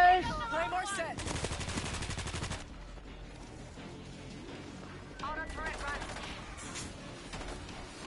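Automatic weapon fire crackles in World War Z Aftermath, with an auto turret spitting a dense rapid burst near the start and quieter intermittent shots later, mixed with game noise and voices.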